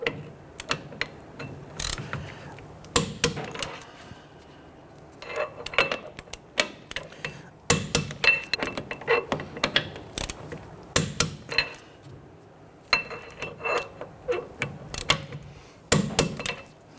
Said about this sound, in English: go ahead and torque these down to 59 foot-pounds